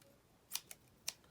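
Scissors give three sharp, quiet snips in quick succession, close up and otherwise near-silent, while trimming fishing line for a sea-fishing pulley rig.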